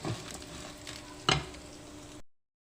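Mint leaves dry-roasting in a pan over a slow flame give a faint, soft sizzle with light stirring scrapes and one sharper scrape of the spoon midway, with no voices.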